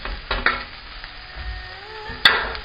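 Garlic and chopped mushrooms sizzle in a pan with vegetables being fried for king prawn fried rice, a steady close hiss broken by a few stirring clatters and a sharp scrape near the end, with no talk.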